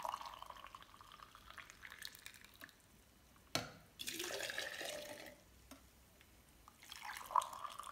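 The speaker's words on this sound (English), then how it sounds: "Let me add 2 cups of boiling water." Boiling water splashes and trickles into a container in a couple of pouring bursts, with quieter gaps between them, close by and fairly soft.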